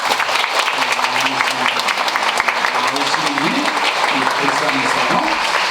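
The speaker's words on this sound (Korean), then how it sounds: "우리 박수로 한번 환영해 주세요." A church congregation claps steadily to welcome a visitor during a worship service, the dense applause filling the whole stretch at an even, moderate level with faint voices underneath.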